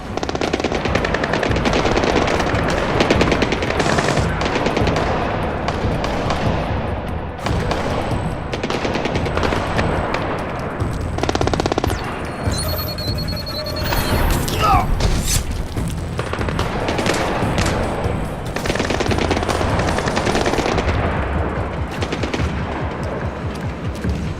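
Sustained automatic gunfire and explosions fill a combat scene in the video game Splinter Cell: Blacklist, loud and dense with rapid bursts throughout, with brief game dialogue underneath.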